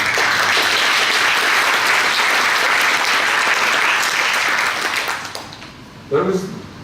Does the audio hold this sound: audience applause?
yes